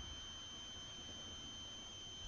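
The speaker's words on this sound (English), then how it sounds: "what's that squeaking noise from my headphones?" A faint, steady high-pitched whine from headphones holds constant throughout, thin and electronic, over a low background hiss, while playing the bus simulator Omsi 2.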